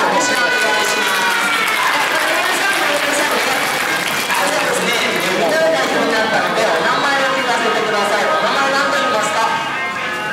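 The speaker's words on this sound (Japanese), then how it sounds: "では皆さんは一旦拍手をお願いします" A crowded audience at a Noboribetsu Marine Park dolphin show claps steadily and loudly for about ten seconds, a dense continuous wash of applause mixed with crowd chatter.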